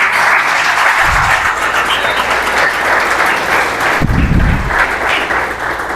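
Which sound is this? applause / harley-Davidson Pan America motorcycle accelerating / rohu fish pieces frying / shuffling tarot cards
applause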